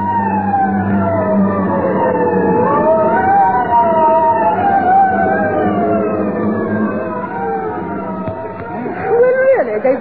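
Fire engine sirens from a vintage radio comedy sound effect wail loudly, rising and falling as they sweep past close by.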